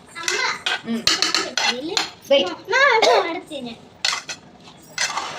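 Mung bean salad is being mixed in a bowl, with a spoon clattering and scraping against the dish in irregular bursts close by, and a voice speaking between the strokes.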